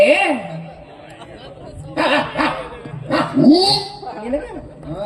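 A person mimics a dog's barking in a stage drama, giving short yapping and whimpering vocal bursts mixed in with other voices talking close by.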